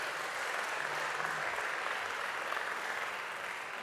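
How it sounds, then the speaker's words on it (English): Continuous audience applause at a Habitat for Humanity Chattanooga fundraising event, a moderately distant wash of many hands clapping that holds steady throughout and tapers slightly at the end. "Just give him another round of applause."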